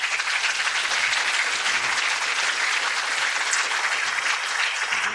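Steady, full audience applause for Sri Mulyani, former Indonesian Minister of Finance and Managing Director of the World Bank, a thick continuous wash of many hands clapping at even loudness throughout.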